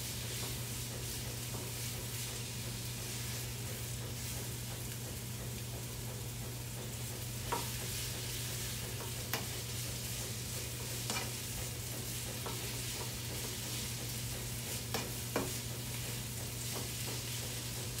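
Onions sizzle steadily in a hot pan during a Sunday dinner cook with collards, with occasional scrapes and clicks as they are stirred across the surface; no voices.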